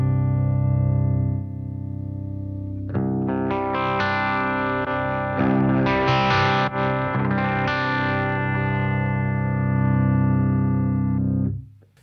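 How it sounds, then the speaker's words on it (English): Electric guitar played through a compressor pedal with the compression driven up and the dry signal dialled out, sustained chords ringing loud and even, a quieter opening note giving way to dense strummed chords that hold steady before cutting off. "let's see what happens when we drive up the compression sound"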